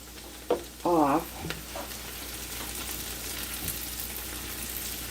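Soup ingredients including garlic sizzle and fry in a hot pot on saute, a soft steady hiss close by, briefly interrupted by a short beeping tone and a clunk.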